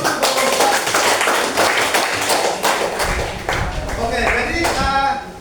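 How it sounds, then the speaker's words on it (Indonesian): A classroom of students claps for the first group after its presentation, giving loud, uneven bursts of applause close by. The clapping carries on under and between voices talking. "Berikan aplaus dulu."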